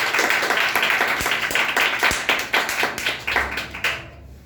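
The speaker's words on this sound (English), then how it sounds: "Clap for him once again." Audience at a public speaking competition breaks into dense, continuous applause, many hands clapping together at steady volume before tapering off at the very end.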